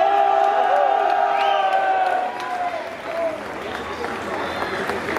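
A festival crowd at Lorient cheers for a bagpipe band, with loud, sustained applause, whoops and shouting. Held tones sound early, then the noise eases and continues as a dense crowd roar.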